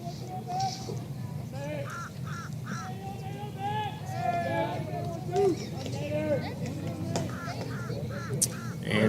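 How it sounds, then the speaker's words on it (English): A crow caws repeatedly in the background at a high school baseball game, its harsh calls coming in short bursts under a commentator's steady play-by-play talk. "hearing the crow in the background"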